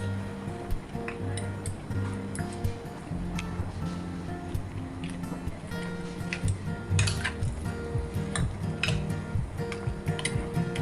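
Beef being stirred through sauce in a pan, with soft wet squishing and scattered clinks of a utensil against the pan, fairly quiet and steady with no talk.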